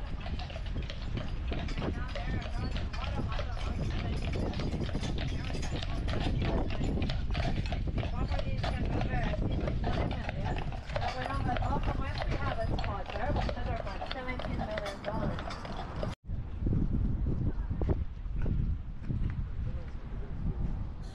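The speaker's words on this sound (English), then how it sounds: "And I can hear a horsey." Horse hooves clip-clopping along a path in Stanley Park, Vancouver, a steady rhythmic clatter under continuous outdoor noise and voices, with a brief dropout near the end.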